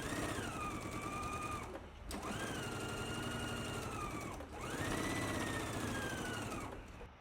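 A sewing machine stitches a t-shirt sleeve seam in three bursts, each a loud steady whir that rises in pitch as it speeds up, separated by brief pauses.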